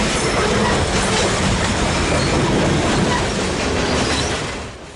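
A CN local freight train rumbles past close by, loud and continuous, with rattling wheels and a faint metallic squeal, fading slightly at the end.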